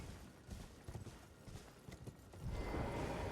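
Hooves clip-clop at a steady gallop on horseback in the Elden Ring video game, a loose rhythmic patter of footfalls that swells into a denser, louder rumble near the end.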